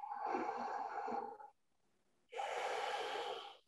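Slow, deep breathing during a relaxation exercise: one long, close breath, a pause of near silence, then a second long breath, heard alone.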